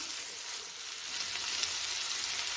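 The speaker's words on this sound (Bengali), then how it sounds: "দিয়ে ভালো করে আবার মিশিয়ে কিছুক্ষণ ভাজা করে নেব।" Steady, soft sizzling of vegetables frying in a pan for egg vegetable pasta, with faint stirring under it and no voices.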